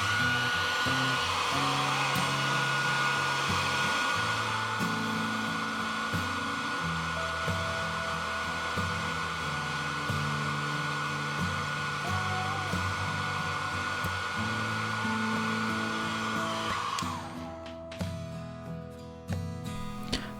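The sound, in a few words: hairdryer heating iPhone XS case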